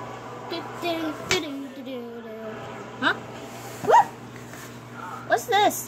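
A dog yips, whimpers and gives short barks in scattered bursts indoors, fairly close, with a steady low hum underneath and no clear speech.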